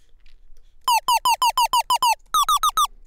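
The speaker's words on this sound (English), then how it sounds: "Let's do the lasers on square." A rapid string of bright, buzzy synthesized laser zaps with a square-wave tone, about a dozen short pitched bursts fired in quick succession, loud and alone.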